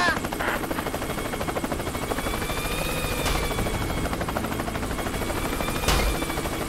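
Helicopter rotor chop from the Worms W.M.D. video game, a steady continuous whirring drone throughout with game effects and a couple of sharp bursts over it.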